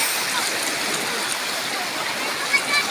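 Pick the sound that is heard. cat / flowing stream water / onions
flowing stream water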